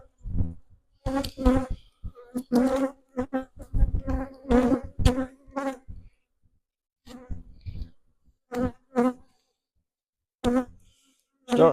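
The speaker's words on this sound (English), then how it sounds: "there's a lot of bees in here" Bees buzz loudly around a weak hive, heard in close, intermittent bursts of droning hum as individual insects pass near, separated by brief silences.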